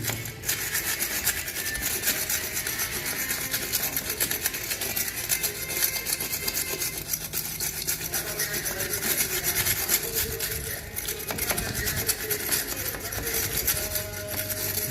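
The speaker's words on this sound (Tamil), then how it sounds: "நம்ம பிரிஸ் எடுத்து காட்டுறோம் அப்படின்னா அந்த சிமெண்ட்லாம் வந்துடும்" A brush scrubs cement dust off polished wood in steady, rapid back-and-forth strokes, close and continuous with a dry rasping texture and no talk.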